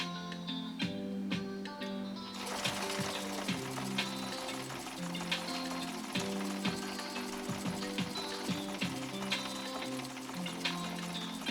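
Viking 6010 sewing machine running a decorative yellow stitch, a steady close mechanical whirr with rapid needle clatter throughout after a brief quieter start, no talking.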